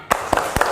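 Students in a classroom do a rhythmic spirit clap, three sharp unison claps evenly spaced in under a second, loud and close.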